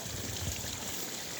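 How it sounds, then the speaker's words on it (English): Steady rushing water from rain pours down a hill through a big tube, trickling continuously, a broad close-up wash of flowing sound with no pauses. "This is water that comes down the hill."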